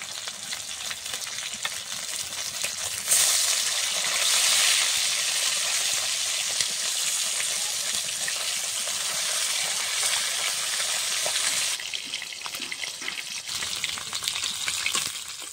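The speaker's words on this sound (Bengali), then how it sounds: "তেল গরম হয়ে গেছে, এখন মাছগুলো দিয়ে দেব।" Bhola fish pieces sliding into hot oil in a wok burst into a loud, dense frying hiss that swells sharply and holds for several seconds before easing back to a quieter sizzle.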